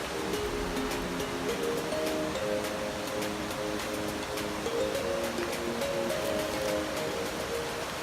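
The Tekaan Telu waterfall, a steady rushing roar of falling water, continuous and fairly loud, with faint intermittent tones in the background.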